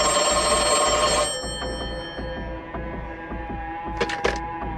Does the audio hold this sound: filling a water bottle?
no